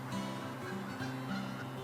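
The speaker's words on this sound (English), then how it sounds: "I hate those geese. I think they run this place." Geese honking steadily at a middle distance, with repeated harsh calls overlapping through a continuous low outdoor background.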